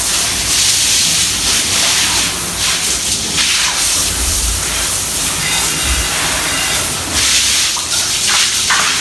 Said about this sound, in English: Kind of hose everything down.